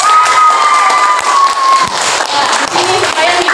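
A class of students applauds and cheers in a classroom, a brief burst of clapping mixed with lively shouting voices.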